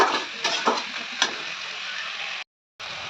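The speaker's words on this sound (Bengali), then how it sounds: "দিয়ে দিলাম কচুর লতি আবার হালকা করে নাড়াচাড়া দিয়ে গ্যাসের ফ্লেমটা একটু কমিয়ে দেবো" Shrimp and taro stolons are stir-fried in a pan over a gas flame: a constant close sizzle broken by a few sharp scraping stirs, then a brief silent gap before the sizzle resumes.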